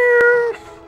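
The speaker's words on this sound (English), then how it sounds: "Get her to meow into the mic." A single short meow from a cat, held close to a microphone, comes out clear and loud, then drops off quickly into quiet.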